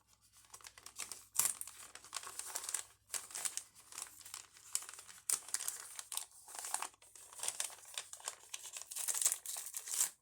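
An envelope made of wrapping paper crinkles and rustles in close, irregular bursts of sharp crackling, handled and opened with brief pauses between crunches and no talking.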